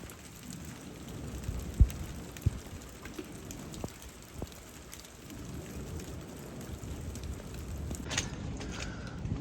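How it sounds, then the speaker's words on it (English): Steady rain pours down during a brief passing storm on a farm, a dense continuous hiss with a few sharper drop impacts and a distant low rumble underneath. "just as you think you've had enough rain, you get a little bit more"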